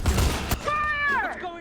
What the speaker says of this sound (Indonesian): suara tembakan itu malah membuat suasana menjadi kacau